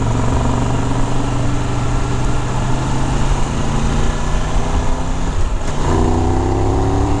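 A 2023 Triumph Tiger 1200 Explorer Rally motorcycle riding on a packed dirt road, its engine droning steadily and loudly throughout with constant wind and road rumble, briefly dipping then holding again near the end.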